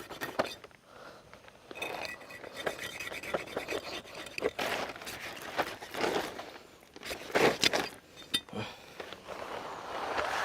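Irregular scraping and cutting strokes as a knife works through the tail of a 75 kg giant stingray, fairly quiet, uneven bursts with pauses between.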